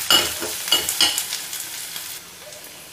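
Curry leaves, green chili and onion sauté in a pan, opening with loud spatula scrapes and sizzling bursts over the first second, then settling into a fainter, steady fry; no talking.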